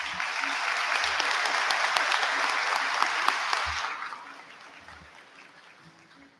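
Audience applause in a school awards and scholarship ceremony hall, a dense steady wash of clapping for about four seconds that then fades away, with a few low thumps underneath.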